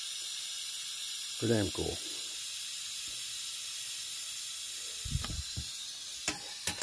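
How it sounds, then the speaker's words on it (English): Steam hissing steadily as pressure is released from a pressure cooker while making sauce, a constant broad hiss running throughout, with someone speaking briefly near the start and short knocks toward the end. "Like a locomotive blowing steam off, huh?"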